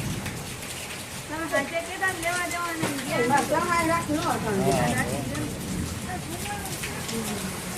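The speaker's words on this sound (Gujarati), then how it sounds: "જોરદાર વરસાદ મિત્રો જો ગાજવીજ સાથે રાતે બે ને ચાલી છે" Steady heavy unseasonal summer rain with thunder hisses in the background while several people talk and call out over it, the downpour continuing throughout.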